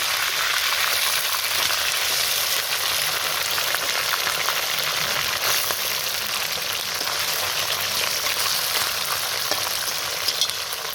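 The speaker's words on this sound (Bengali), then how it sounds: "মাছ ভাজা হয়ে গেছে আমি এখন মাছগুলো উঠে নিচ্ছি" Small guchi fish fry in a pan of oil, giving off a dense, even sizzle with light spattering crackles, close and continuous, with no one speaking.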